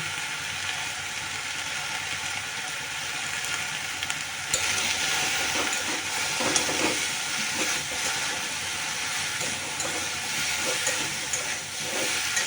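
Ground spices (turmeric, cumin, coriander) and salt fry in hot oil in a pan for a vegetable dish, a steady bright sizzle and hiss running throughout with small crackling bursts, close and fairly loud, no voices.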